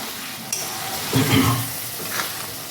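Pointed gourd is stir-fried with spices in a pan, with a light sizzle under a few scraping stirs of a spatula in the middle, close and moderately loud, with no talk.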